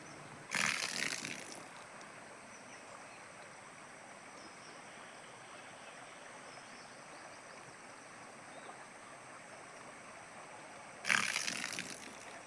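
Output water from a ram pump flows in a continuous soft stream, with two louder bursty surges of splashing at the start and near the end, marking the pump's cycle, with no talk.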